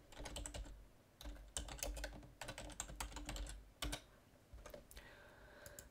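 Fast typing on a computer keyboard while renaming a task in software, close and crisp clicks in quick bursts with short pauses between them, alone with no talk.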